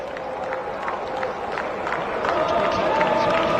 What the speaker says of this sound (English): Indian fans clapping and rejoicing